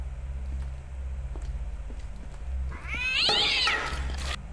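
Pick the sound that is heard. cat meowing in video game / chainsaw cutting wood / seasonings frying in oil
cat meowing in video game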